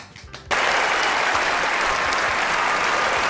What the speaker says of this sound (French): Oui, on applaudit.